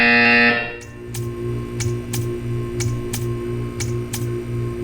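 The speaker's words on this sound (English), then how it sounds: "You will hear a buzzer." In Portal 2 a loud tone cuts off, then a short buzzer-like click or tick repeats at regular intervals, about twice a second, over a steady low hum.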